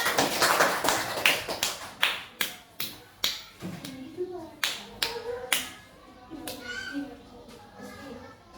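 A classroom of children claps in a loose, ragged way: a burst of quick claps that thins into separate, sharp hand claps spaced out over several seconds, with a teacher's voice and children's chatter around them.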